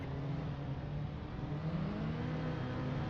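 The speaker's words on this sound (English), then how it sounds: "Revs are up." Clubman race cars sit revving on the grid before the start, a steady, droning engine hum with a faint rising whine, heard at a moderate distance with no voices.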